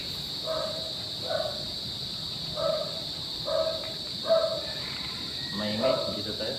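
A dog barks in repeated short yelps at night near a private cemetery in Cavite, somewhat distant, in bursts about once a second over a steady insect-like hiss, with a few faint voices.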